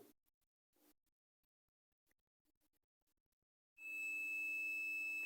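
A Biostar N68S3B ver 6.2 motherboard under repair, with a shorted circuit, gives a continuous high-pitched electronic beep that starts abruptly after faint handling noises and holds steady and clear.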